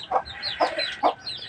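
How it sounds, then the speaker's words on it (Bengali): Chicks and hens in a home poultry yard give three short, close clucks at a steady, spaced rhythm, with no one talking. "এই যে মুরগির বাচ্চাগুলো"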